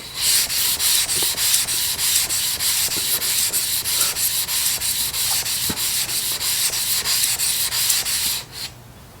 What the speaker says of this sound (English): let's just try flattening this stone just a little bit more